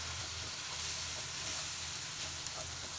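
Taro being stir-fried in a hot pan at home, with a steady, close sizzle and a faint hiss throughout and no talk.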